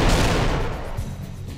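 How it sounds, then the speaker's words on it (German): Heavy continuous booming and rapid gunfire-like blasts from explosions in the shooter video game Will Rock, with machine gun fire in a residential area, loud and dense throughout with no talk. "Oh, die explodieren."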